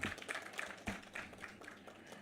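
An audience applauds a speaker at a productivity forum in Jamaica: a faint, loose patter of clapping that rises briefly and fades toward the end.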